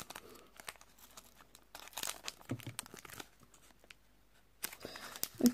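A sealed emoji-match card booster pack is torn open by hand: close crinkling and ripping foil in scattered bursts, getting louder near the end, with no speech.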